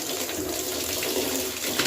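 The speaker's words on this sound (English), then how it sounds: "I'll rinse my bucket out." Warm water gushes steadily from a tap while a bucket is rinsed during alpaca fleece washing, a loud continuous splashing rush heard close up with no voices.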